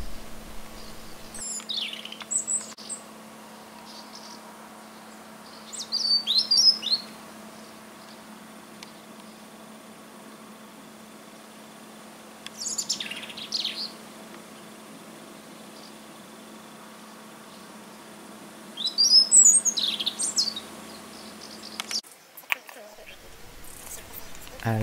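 A European robin sings near its emptied nest in four short, high, bright phrases separated by long quiet gaps, over a faint steady hum.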